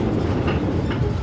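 Taksaka passenger train running on the Jakarta–Cirebon line near Jatibarang, under a speed restriction for track maintenance, giving a loud, steady close rumble of wheels and carriages with no voices.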